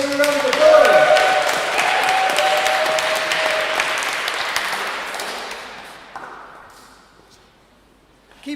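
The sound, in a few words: audience applause at a spoken word night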